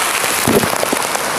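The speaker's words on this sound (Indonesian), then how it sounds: "Ya, bagaimana biasanya kalau hujan deras seperti ini akan terjadi banjir di sini" Heavy rain in a residential area of Batu Aji, Batam, during flooding: a dense, steady roar of rainfall hitting surfaces, loud and continuous throughout, with no talk over it.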